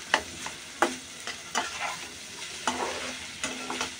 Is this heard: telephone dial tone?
no